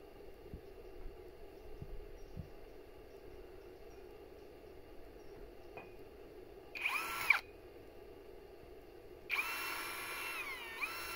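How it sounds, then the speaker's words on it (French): Two short bursts of small-bit drilling into thick metal tubing while a tunnel shelter's tubular frame is assembled, each loud and a second or two long, separated by a quiet pause over faint background hum. "Comme les tubes sont assez épais, il faut mieux percer avant."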